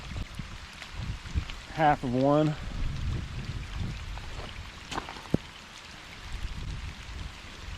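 Rain falls in Texas onto a muddy country road, a soft steady patter under a brief spoken phrase and some low rumbling.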